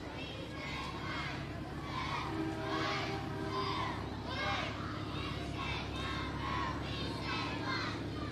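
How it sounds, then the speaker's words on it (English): A group of fourth grade cheerleaders chants a rhythmic cheer at a homecoming parade, young voices shouting in repeated bursts amid crowd noise outdoors. "Our fourth grade cheer."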